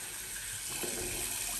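Hot water runs from a tap onto shaving soap in a short, soft, steady trickle, faint and close, with no voices.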